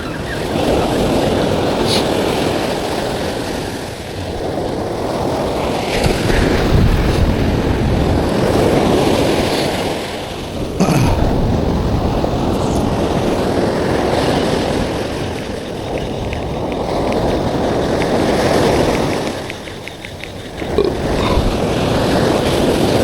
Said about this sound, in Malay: Ombok.